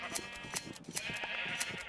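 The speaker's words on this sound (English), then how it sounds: "Let's just shave more sheep and just hope that they like me." Sheep in the video game Minecraft bleat repeatedly, several overlapping game-style baas packed close together at moderate volume, with no talking.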